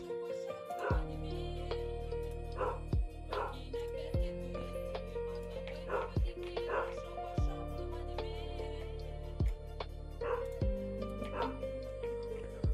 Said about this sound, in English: Damn, can my dog bark any louder?